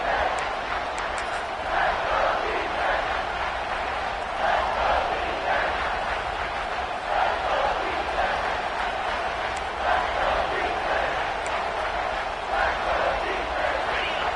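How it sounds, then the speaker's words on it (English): Stadium crowd at a football game roaring steadily through a third-down play in the red zone, a dense, sustained wall of cheering and shouting with no clear pauses. "this crowd is at fever pitch"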